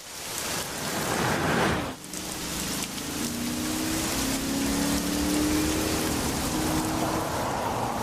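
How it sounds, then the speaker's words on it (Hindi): Heavy rain pours in a steady loud hiss with a brief dip partway, and a low engine hum rises beneath it. "एक तो आज बारिश भी बहुत तेज है"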